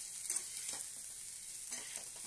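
Spiced curry paste with ground coriander, cumin, turmeric, salt and chilli powder frying in a pan, giving a soft, steady sizzle broken by a few stirring scrapes, fairly quiet with no talk.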